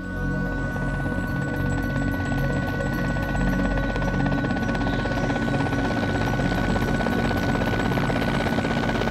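A helicopter drones continuously with a steady rotor thrum and whine, holding an even loudness for the whole stretch, with no talking.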